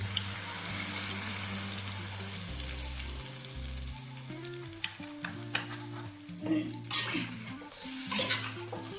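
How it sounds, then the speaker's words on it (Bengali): Water poured into a pan of frying shukto, a Bengali mixed vegetable curry, hissing sizzle steady at first, then stirring scrapes and clinks of a utensil against the pot growing in bursts toward the end. "এবার এতে আমি পরিমাণ মতো জল দিয়ে দেবো।"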